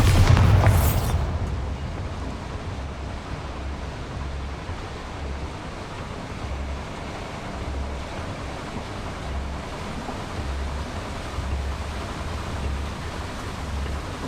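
Bombarda spell explosion in the Hogwarts Legacy video game: one sharp loud blast at the very start that decays into a long, steady, surf-like rushing rumble with faint pulsing, no voices.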